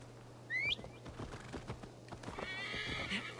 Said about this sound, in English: So I'm just gonna ride there on my horse